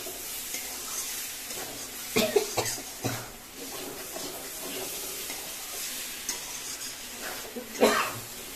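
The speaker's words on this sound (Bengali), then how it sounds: "এখানে মশলা আর আলুকে কষিয়ে নিচ্ছে" Potatoes and spices frying in a pan with prawns, a continuous sizzle with stirring scrapes and a few knocks of a utensil against the pan, close, with a brief cough.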